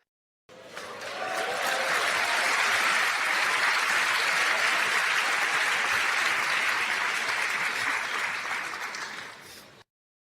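An audience breaks into sustained applause that swells quickly, holds as a thick, steady roar of clapping for about nine seconds, then fades out, with no talking over it.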